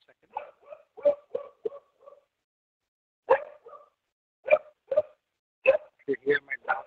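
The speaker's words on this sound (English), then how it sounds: "You hear my dogs barking?" Sharp, short barks come in uneven bursts with quiet gaps between, fairly close and clear against silence.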